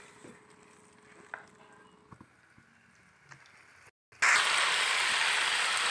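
Chicken with tomato ketchup stir-fried in a pan for tawa chicken: a few light knocks and quiet clatter, a brief pause, then a sudden loud, continuous sizzle that carries on to the end.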